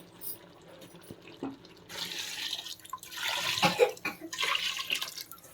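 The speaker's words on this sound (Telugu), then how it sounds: "వాటర్ వేస్తున్నాను" Water pours steadily into a pressure cooker of goat head curry, a splashing, gurgling rush that grows louder and fuller toward the end.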